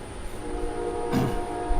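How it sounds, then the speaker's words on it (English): A train rumbles steadily with a sustained horn-like tone and a brief swell of noise mid-way, heard at moderate distance without any talk. "You're in time for the trains."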